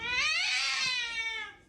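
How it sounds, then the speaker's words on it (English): A pet cat gives one long, loud, drawn-out meow that rises and then trails off, close to the microphone with no talking over it. "This is my great cat."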